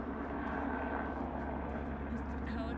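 A search helicopter flies overhead in open country near Bryce Canyon, a steady distant engine and rotor drone at low level that holds without change throughout.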